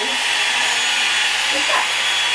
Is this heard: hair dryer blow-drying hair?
yes